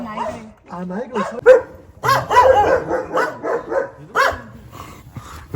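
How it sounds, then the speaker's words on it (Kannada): Several dogs bark and yip repeatedly in irregular bursts, close and loud, with a person talking in between. "ರೋಡ್ ಫುಲ್ ಬಗ್ಬಿಳ್ತಾ ಇದೆ ನಾಯಿಗಳು"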